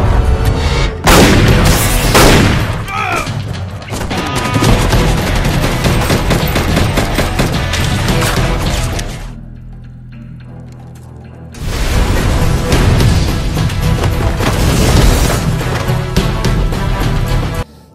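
Heavy gunfire from a gangster film shootout: loud bursts of rapid shots and booms, broken by a short quieter lull with a low rumble before the firing resumes.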